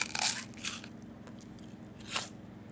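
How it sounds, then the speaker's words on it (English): A bite into a crisp, crunchy apple gives a loud close crunch, then a second smaller crunch and a later third bite, with no talking. "That is a good crunch"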